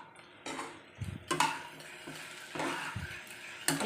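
Food stirred and mixed in a pan, a series of close scraping and clinking strokes of a utensil against metal in an uneven rhythm, with a faint sizzle underneath and no talking.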